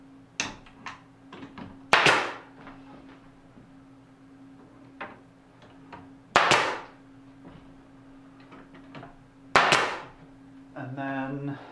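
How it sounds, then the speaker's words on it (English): Brads are tacked by hand into freshly glued wood on a simple DIY tool chest, giving three sharp, loud impacts spaced a few seconds apart, with softer taps and handling noise in between. "I am gonna put a bead of glue on this, and some brads to tack it in place."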